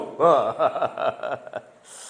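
A voice imitates the deep snoring of a person sound asleep, with a few rasping, rhythmic breath-like bursts close up, then trailing into quiet.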